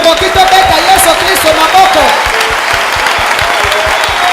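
A church congregation bursts into loud, sustained applause and cheering for Jesus, dense clapping filling the room with voices rising through it.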